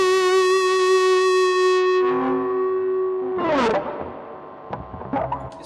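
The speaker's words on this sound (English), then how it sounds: "Let's just turn that distortion up again and listen to how this sustains." An electric guitar note played through the distortion of a NUX MFX-10 multi-effects pedal, held in a long, steady tone that then fades into a tail of echoing glitches and warbles, with no voice.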